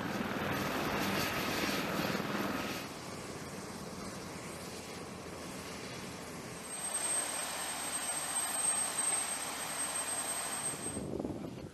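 AH-1Z attack helicopter flying, a steady rotor and turbine roar at moderate distance that shifts in level partway through and holds alone without talk.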